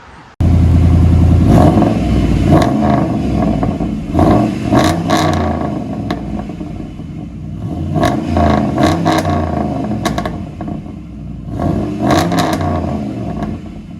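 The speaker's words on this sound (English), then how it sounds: "So it's true dual with Flow FX, 2 Flow FX mufflers right there." A 2007 Dodge Ram with a 4.7L engine and true dual exhaust through two Flowmaster Flow FX mufflers revs repeatedly, loud and close, its deep rumble surging and falling in a string of throttle blips with no talking.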